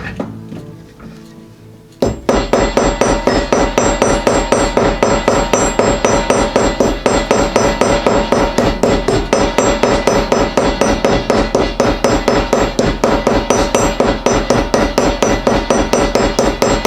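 Sharp, rapid metallic hammer blows peening a rivet on a leather sheath for a Hudson Bay axe, loud and close, falling in a fast steady rhythm after a short quiet opening.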